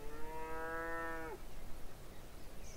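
A single cow lets out a clear, sustained moo lasting over a second, moderately close, followed by quiet outdoor background noise; nobody speaks.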